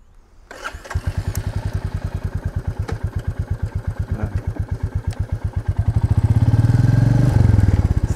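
Royal Enfield Meteor 350 single-cylinder motorcycle starting up and then idling with a loud, close, evenly pulsing thump, swelling into a brief rev near the end before settling again; no talk.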